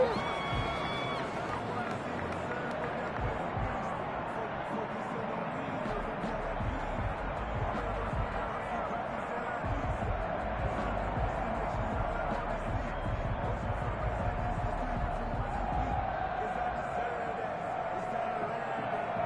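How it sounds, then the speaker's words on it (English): A home stadium crowd roars in a steady, dense wash in a Saints versus Chicago football video game playoff, with a commentator talking over the continuous cheering. "This home crowd, they're happy with that call."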